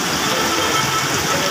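Steady, dense hiss of heavy rain pours down continuously during a morning bike ride, a loud broadband wash with no pauses.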